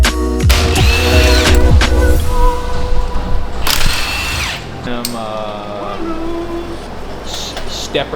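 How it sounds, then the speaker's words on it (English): A power drill fitted with a step drill bit bores through metal during work on a C7 Corvette's steering setup, with loud grinding whine bursts and people talking nearby. "Stepper drill bits."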